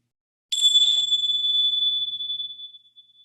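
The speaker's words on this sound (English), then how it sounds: "these bells will start and end any exercise that I introduce during the session" A single meditation bell struck once at the start of a guided meditation exercise, a clear bright ring that sustains and slowly fades over about three seconds in otherwise quiet surroundings.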